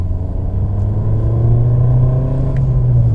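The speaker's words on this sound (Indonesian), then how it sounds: "Ada suara turbonya tuh." Turbocharged engine of a 2017 Honda Civic sedan pulling steadily under acceleration, heard from inside the car as a loud, continuous low drone with no talking.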